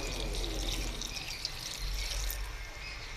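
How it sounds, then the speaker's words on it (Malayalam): Water pours into a pan of papaya and taro stem curry, a soft, continuous splashing trickle heard close and fairly quiet for a few seconds. "കുറച്ച് വെള്ളം കൂടെ ഒഴിച്ചു കൊടുക്കുക."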